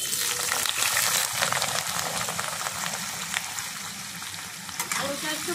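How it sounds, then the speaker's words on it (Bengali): Small cut potato pieces frying in hot oil in a wok, loud dense crackling sizzle with occasional stirring clicks, sustained and close. "দেখো আলুটাকে প্রথমে লাল করে ভেজে তুলে নেব"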